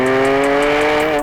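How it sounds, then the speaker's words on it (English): A turbocharged car roars past at full acceleration, its loud engine note climbing steadily and holding strong throughout before cutting off abruptly at the end. "that turbo sounds sick, Tim"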